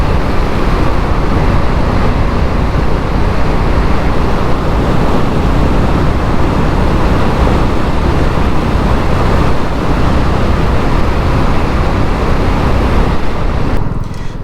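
A motorcycle rides down a country lane toward a village at sunset, its steady engine drone buried in heavy wind roar against the microphone, constant and loud throughout with no talking.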